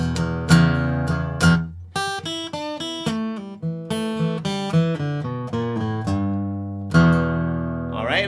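A 12-bar blues lick on acoustic guitar, with plucked single notes and bent phrases ringing clearly and alone, played at a relaxed, steady pace with short pauses between phrases.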